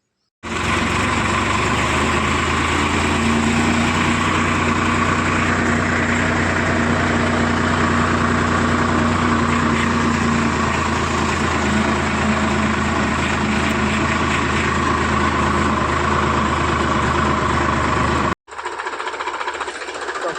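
A tractor engine runs at a steady, loud idle, a constant low rumbling drone lasting the whole time before cutting off briefly near the end.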